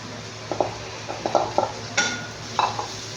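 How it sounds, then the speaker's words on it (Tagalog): Shredded cabbage sautés in a pan, a soft sizzle under repeated scraping and stirring strokes of a utensil against the metal, close and fairly quiet. "Saute for a little while. Put the cabbage."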